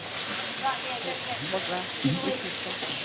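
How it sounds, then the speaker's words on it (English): Scallops sear in a hot pan in a busy restaurant kitchen, a steady hiss of sizzling oil under nearby voices talking. "Scallops in. Nice hot pan so the scallops don't boil."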